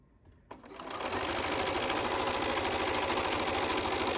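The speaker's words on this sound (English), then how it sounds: "so we're just going to sew" Home sewing machine starts up after a brief quiet moment and stitches a seam on a zipper pouch at a steady, even, rapid pace, close and continuous.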